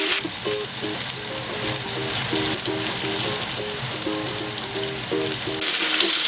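Chicken thighs seared skin-side down in a pan over high heat give a steady, loud, dense sizzle and crackle that runs without a break, with no voices over it.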